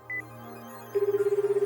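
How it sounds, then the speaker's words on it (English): Inside the Amatsutsumi visual novel, a phone call begins with a brief electronic chirp, then a steady pulsing ring tone repeats in quick even beats over soft background music. "I can tell that her phone has stopped ringing"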